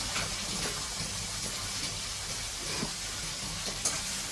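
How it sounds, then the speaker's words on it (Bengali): Green chillies and onion fry with salt in a pan, giving a steady low hiss of sizzling oil with faint stirring ticks throughout, close by and without talk. "তো আমি কিছুক্ষণ ভেজে নিব।"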